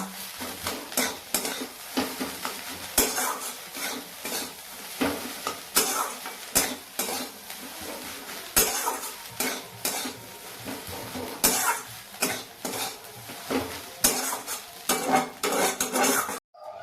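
A spice mix stirred into oil in a pan over lowered gas heat, with rapid, irregular scraping and clattering of a utensil against metal over a soft sizzle, close up and without speech.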